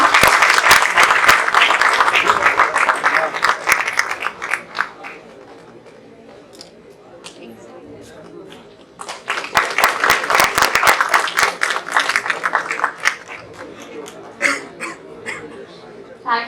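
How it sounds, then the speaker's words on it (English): Audience at an HR conclave at a business school applauding a guest honoured with a memento: loud bursts of hand clapping, fading to a quieter stretch midway, then a second strong round of applause. "Give a big round of applause for Mr."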